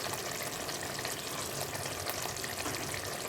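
Boiled egg gravy bubbles in tamarind juice with garam masala in a pan on the stove. It gives a steady, even sizzle and bubbling hiss that stays faint and unbroken throughout.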